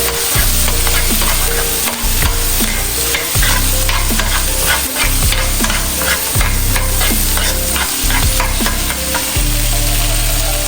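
Curry corned beef is stirred in a pot, a loud, close sizzle broken by repeated rhythmic scraping strokes of a utensil against the pot, with no talking.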